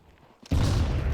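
A grenade detonating in Counter-Strike on the Anubis map, a sudden loud boom after a faint lead-in, followed by a sustained rumbling wash.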